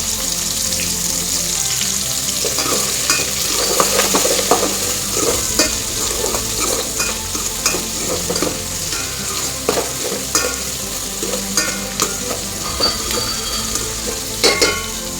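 Food fries steadily in a pan with salt added for kayi pulao, a dense continuous sizzle with intermittent stirring scrapes and clinks throughout.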